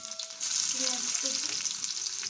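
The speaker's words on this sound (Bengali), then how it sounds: "রসুন দিচ্ছি" Chopped garlic hits hot oil in a wok and bursts into a steady, loud sizzle. The crackle starts suddenly and holds close and continuous, with no talking.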